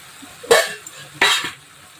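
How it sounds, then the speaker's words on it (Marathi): Masala frying in oil for a cluster bean curry, with two distinct bursts of sizzle and scraping stirs about seven tenths of a second apart over a quiet background. "छान असे तळून घ्यायचे तेलामध्ये छान भाजून घ्यायचा मसाला"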